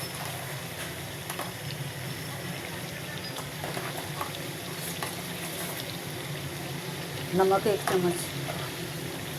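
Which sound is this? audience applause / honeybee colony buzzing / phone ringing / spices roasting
spices roasting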